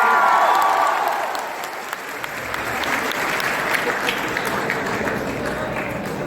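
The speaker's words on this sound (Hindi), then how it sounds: "एक बार जोरदार ताली दरभंगा के लिए।" Loud applause and cheering from a large seminar audience in Darbhanga that swells at first, dips briefly, then continues as sustained clapping.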